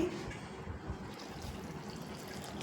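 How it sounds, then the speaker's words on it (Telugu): Boiled and cooled water poured into murukku flour in a bowl: a soft, steady trickle of liquid, close and fairly quiet, running continuously on its own. "కాగి చల్లార్చిన నీళ్ళు ఇవి"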